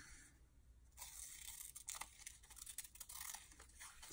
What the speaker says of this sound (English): Glue that across the top and I'll cut it out